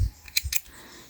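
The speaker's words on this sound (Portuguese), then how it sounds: "Agora é só cortar o excesso." A quick pair of snips from scissors trimming excess yarn on a crocheted amigurumi kitten piece, close and crisp in a quiet room.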